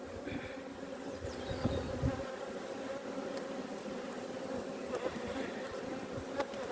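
Honeybees hum in a steady, dense drone around an open, queenless hive, with occasional individual bees buzzing close past and no talking.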